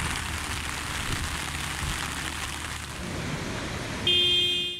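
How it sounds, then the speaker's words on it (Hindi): Heavy monsoon rain pours steadily in Lahore, a dense continuous hiss with traffic rumbling underneath and a brief car horn sounding near the end. "काली घटा कहीं हल्की और कहीं खूब जमकर बरसी।"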